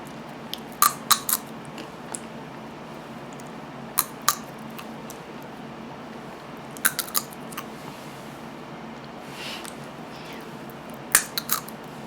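Salty sunflower seeds are cracked and chewed close to the mic, giving sparse sharp crunches and clicks in small irregular clusters over a quiet room hum, with no talking.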